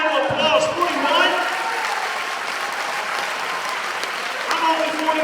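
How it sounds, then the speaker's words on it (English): An audience at a keynote for an equity symposium breaks into applause, a dense, sustained clapping from a crowd that carries on evenly for several seconds with some voices mixed in. "Give them a round of applause."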